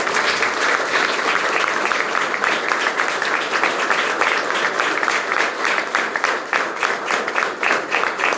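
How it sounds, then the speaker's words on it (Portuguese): Sustained applause from a crowd of mourners gathered at a funeral wake, dense and loud clapping that continues steadily throughout without pause. "Vamos aplaudir Jesus, vamos fazer isso."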